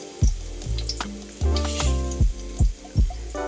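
Chana dal and urad dal fry in a pan for a radish leaves dish, with a steady sizzle and several loud, regular thumping knocks and scrapes of stirring.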